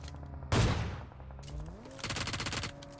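Gunfire in PUBG Mobile, a burst of loud shots followed by a rapid rattling volley, set against in-game ambience with no talk.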